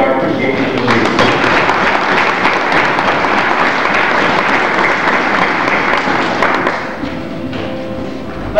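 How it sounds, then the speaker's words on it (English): An audience at a church-style gathering applauds in a sustained, dense wash of clapping with some thumps, loud and close, fading toward the end before a sudden knock. "And I'd like to show my appreciation by applauding them, and I'm sure you'd like to join me in showing our appreciation to you."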